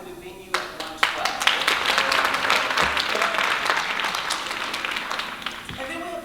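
An audience claps and applauds for a wedding and event venue, a dense, steady wash of many hands that swells in after a few scattered claps and holds for several seconds, with voices mixed in beneath it.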